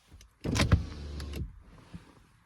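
Car power window motor running briefly as the glass moves, a close whirring hum lasting about a second with a soft thump at the end, no talking.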